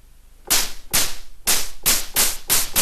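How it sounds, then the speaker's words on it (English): A custom snare drum sound designed in Reason software hits loud and snappy, six sharp strikes in an uneven pattern, with bright noisy cracks and short decaying tails and no talking. "Not the best snare in the world, but we're going to use that. All right, so there's my snare."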